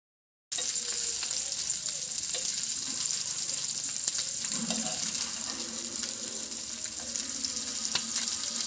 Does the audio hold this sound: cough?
no